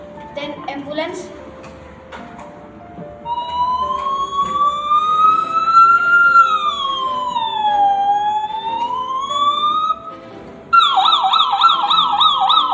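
A person imitates an ambulance siren with their voice, making a long, close wail that rises and falls smoothly, then switches to a fast, rapidly warbling yelp at the end.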